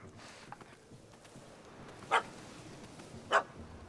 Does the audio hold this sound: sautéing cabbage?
no